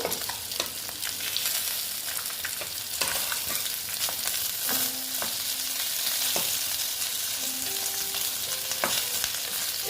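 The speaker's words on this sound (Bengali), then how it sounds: "মাছগুলো ভাজা হতে থাক দেখো আমার মাছ ভাজাটা প্রায় কমপ্লিট হয়ে গেল" Snakehead fish fry in a pan, giving a steady, close sizzle with bright pops and crackles and a few scraping, clinking stirs. It continues without pause, and no voices are heard.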